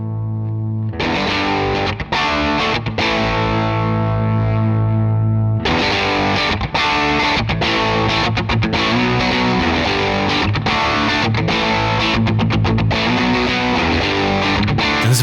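Electric guitar played through a Defects Arrow overdrive pedal, a Klon-style clone, giving a lightly driven, full tone; loud, continuous chords and riffs with a brief pause near the middle, no talking.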